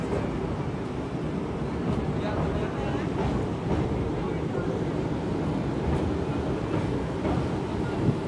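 A train rolls across the Pamban Bridge over the sea as a steady, dense rumble with wind buffeting the microphone, continuous and fairly loud for the whole stretch, with no clear clacks standing out.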